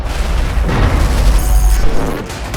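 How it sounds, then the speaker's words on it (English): Deep rumbling booms and crashing debris of a skyscraper collapsing under heavy bombardment in Battlefield 4, a loud continuous low roar swelling over a couple of seconds with no talk. "Attacking the building's support pillars at the ground level with heavy bombardment will eventually lead to the building's collapse."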